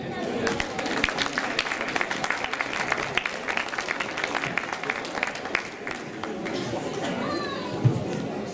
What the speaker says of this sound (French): Mesdames et messieurs, Lila et Manas, sous vos applaudissements.